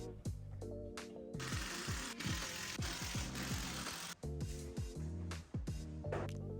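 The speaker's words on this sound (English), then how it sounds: "we'll use long screws to attach our support piece" A power screwdriver whirs in repeated bursts, its motor pitch rising and falling as long screws are driven through a support piece into a wall, loud and close with brief pauses between runs.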